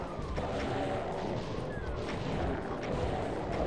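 Rocket launcher explosions tear through a crowd of imps in the game Doom II: a dense, continuous roar of blasts and crashing debris that stays loud throughout, with no voice over it.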